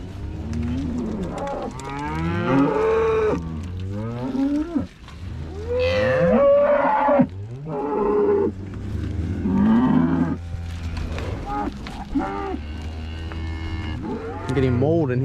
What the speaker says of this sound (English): The cows are looking good.